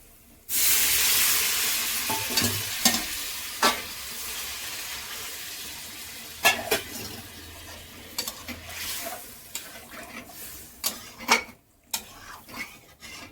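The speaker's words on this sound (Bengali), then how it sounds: "এবার গরম জল করে রেখেছি সেটা দিয়ে দেবো" Hot water hits a hot pan of spiced yam and potato curry, setting off a sudden loud sizzle and hiss that slowly fades, broken by sharp clinks of a spoon stirring against the pan.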